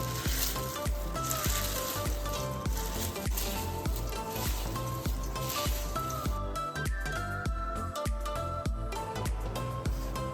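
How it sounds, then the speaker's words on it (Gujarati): A spoon works masala into a mix poha chevdo with a fast, steady run of crisp rustling and scraping strokes, close and continuous, with no talking. "હવે છે ને આ બધો મસાલો આપણે એકદમ આ રીતે મિક્સ કરી લઈશું"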